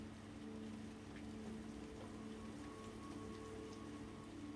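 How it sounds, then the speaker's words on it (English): Rain falls steadily in an even, faint patter that continues unbroken from start to finish, with no voices. "I love how the rain's coming out right now"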